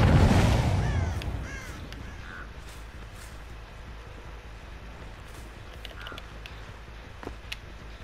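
A crow in the game Dead by Daylight caws a few times after being disturbed, faint and at a distance, over a low ambient drone with a brief rustle at the start.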